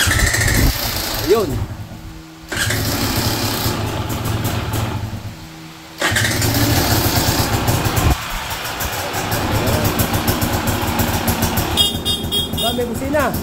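A KTM 300 EXC two-stroke dirt bike engine runs through most of the clip, loud and close, cutting out briefly twice and then picking up again, while people talk over it and a horn toots near the end.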